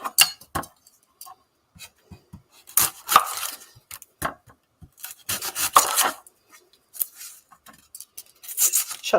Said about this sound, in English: the first thing I need to do is chop up an onion